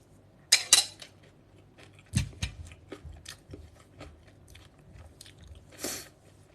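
Someone eats capcay, a stir-fried vegetable dish with sliced fish balls, close to the microphone. A few crisp bites and chewing clicks come at irregular intervals, with occasional light clinks of cutlery against a dish and no speech.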